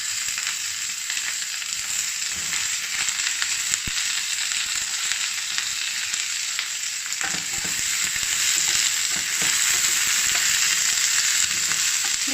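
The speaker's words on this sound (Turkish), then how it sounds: "Şimdi biberlerimi atıyorum. Şöyle mantarlarımı atıyorum." Peppers and mushrooms frying with potatoes in a hot pan, a loud steady sizzle with bright crackle and occasional stirring scrapes, close and continuous, no talking.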